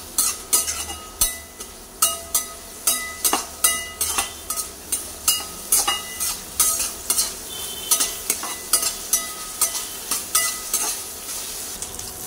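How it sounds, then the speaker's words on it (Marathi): Chopped medium onions fry in a spiced masala for chole while a spoon stirs them in rhythmic strokes, each scrape over a constant sizzle, repeating roughly every half second, close and clear. "कांदा जरा भाजून घेऊया।"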